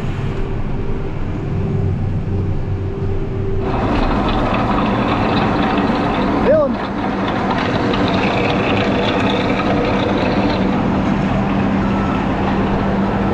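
A tractor engine drives a hydraulic conveyor in a loud, continuous low drone, with a shift in tone a few seconds in and a brief whining sweep midway.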